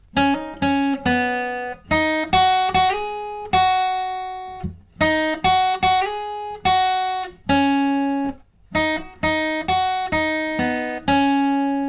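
A clean electric guitar plays a single-note lead melody, notes plucked one at a time with some held and ringing, bright and close.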